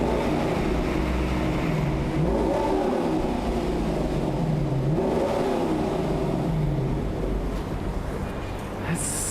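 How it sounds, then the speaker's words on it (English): A Lexus LC500 convertible's naturally aspirated V8 revs repeatedly, its deep engine note climbing and falling in several loud, close sweeps that fill the whole stretch. "Now, let's hear the engine."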